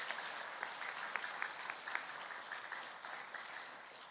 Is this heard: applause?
yes